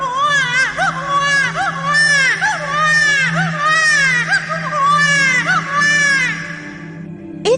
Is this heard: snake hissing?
no